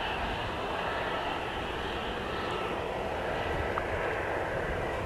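An EasyJet airliner at Manchester Airport produces a constant, moderately faint broadband engine rumble that holds evenly from start to finish, with no talking.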